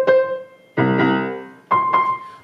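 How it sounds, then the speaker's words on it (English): Three separate notes on a piano, middle C, each struck cleanly and left to ring and decay, near and moderately loud with no talking. "we're going to have what we call middle C, and that's a really important note on the piano"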